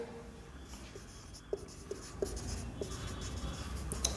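Chalk or marker strokes on a board during a general science lesson on the digestive system, giving a few faint scratchy taps spaced about half a second apart over a low steady room hum.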